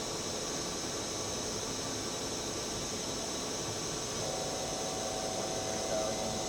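A Milltronics RH30 vertical machining center spindle motor runs with a steady electric whine and broadband hum, shifting tone partway through as a rising higher pitch emerges, close and continuous.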